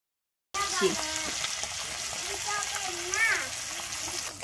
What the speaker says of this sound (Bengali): প্রথমে কিন্তু পুঁটি মাছটা কিন্তু লাল করে ভেজে নেবো।